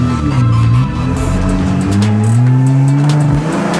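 A large armored vehicle's engine drones loud and close as it is driven, its pitch rising and falling through gear changes, with brief tire or road noise.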